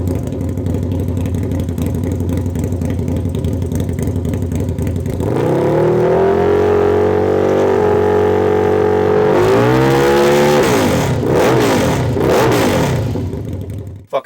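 Harley-Davidson V-Rod motorcycle with a Fitzgerald Motorsports exhaust, loud and close, idling with a deep rumble before revving hard into a sustained high roar, then dropping and climbing again before cutting off.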